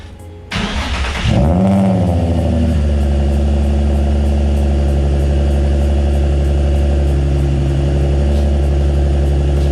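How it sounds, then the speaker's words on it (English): A Nissan 350Z engine cold-starts with a loud crank and catch, flares briefly, then settles into a steady, deep, close idle that holds to the end; no talking. "Get a little cold start for the boys."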